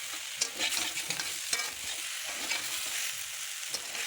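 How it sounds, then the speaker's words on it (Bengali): Mixed vegetables, drumstick pods, potato, tomato and green banana, being stirred and sautéed in a pan, giving a steady close sizzle broken by repeated scraping and clattering strokes of the spoon, with no talking. "এই যে সবজি দিয়ে ভালো করে কষিয়ে নিচ্ছি"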